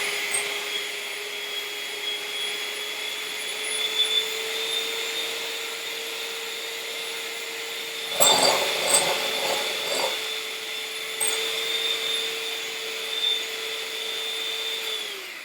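An electric hand mixer whips egg whites toward stiff peaks for morning waffles, a steady mid-level whine droning continuously with brief clattering bumps as the beaters knock the bowl.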